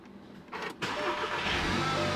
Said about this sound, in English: I'm gonna start the car with the coolant tank open